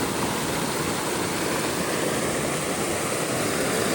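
A swollen stream runs beside rice fields in Konkan, its water rushing in a steady, dense wash with no voices, unbroken from start to finish.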